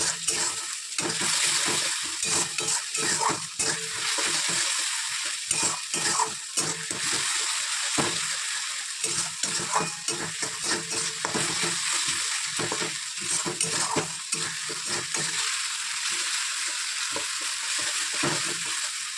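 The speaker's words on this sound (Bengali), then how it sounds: "মশলাটা ভালো করে কষিয়ে নেব" A masala paste of ground ginger, garlic, tomato, cumin and green chilli fries in a pan with a steady, close sizzle, while a utensil stirs and scrapes in repeated bursts throughout.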